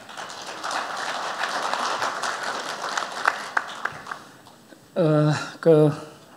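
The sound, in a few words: audience applause welcoming a speaker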